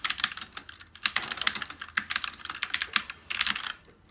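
Rapid, uneven typing on an RGB mechanical keyboard with brown switches, a close, crisp run of key clacks with brief pauses and no voices.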